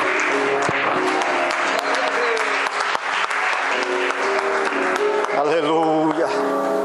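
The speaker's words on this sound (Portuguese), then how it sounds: "Aplauda, exalta, glorifica o nome do Senhor dos Exércitos." A church congregation applauds in praise of the Lord during an evening service, steady dense clapping filling the room for several seconds, with voices and a preacher talking over it and a brief musical swell near the end.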